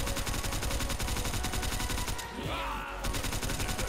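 Sustained rapid LMG fire in Call of Duty Custom Zombies, a loud, even stream of shots that pauses briefly for about half a second before resuming.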